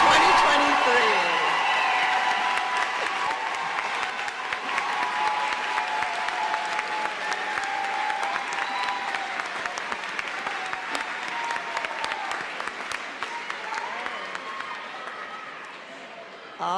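A graduation audience at a university commencement honoring the class of 2023 fills the hall with steady, dense applause and scattered cheers, a loud continuous clatter of clapping that lasts throughout and tapers slightly toward the end.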